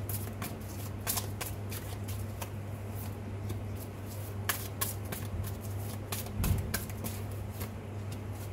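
A deck of tarot cards is shuffled in a steady run of soft, papery riffles and flicks over a low constant hum, close and fairly quiet, with no voice.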